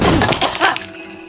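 A pen holder is knocked over in an As Dusk Falls game scene, a sharp crash and clatter of falling objects followed by a brief rattle that quickly dies away.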